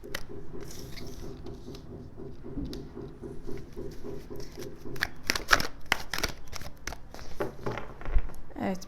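Tarot cards shuffle and slap down on a table, a soft papery patter building into sharper flicks and taps, close and fairly quiet.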